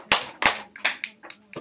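Hands clapping in a loose sequence of sharp, close claps, three strong ones followed by a few lighter, quicker ones, with a faint voice in the background.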